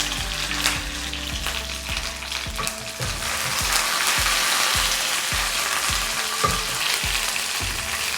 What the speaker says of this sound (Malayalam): ഇനി ആവശ്യത്തിന് കറിവേപ്പിലയും ഒരു 2-3 വറ്റൽമുളക്